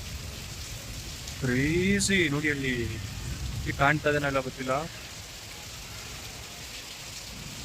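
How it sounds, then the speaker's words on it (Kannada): Heavy rain pours down in a steady, close hiss that runs through the whole stretch, with people talking over it partway through. "ಮಳೆ ಮಾತ್ರ ಸಖತ್ತಾಗಿ ಬಂತು. ಇನ್ನು ಬರ್ತಾನೆ ಇದೆ ಆಫ್ಟರ್ ರೈನ್ ಅಲ್ಲ."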